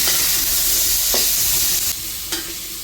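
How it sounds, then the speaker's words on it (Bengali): Prawns frying in hot oil in a pan, a steady loud sizzle broken by a few sharp scraping strokes of a spatula stirring them, with no voices. "একটু নেড়ে ছেড়ে লাল লাল করে ভাজবো"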